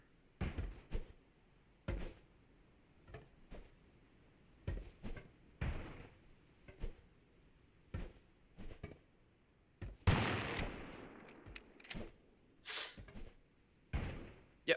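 Grenade explosions in the TABG game, heard as a series of sharp, fairly faint bursts spaced irregularly over a quiet background, with a denser, louder cluster partway through.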